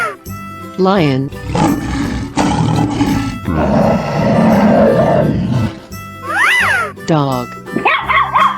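A dog barks in a 3D animal sliding video game, several loud rough bursts layered with other animal roars and game music while voices talk throughout.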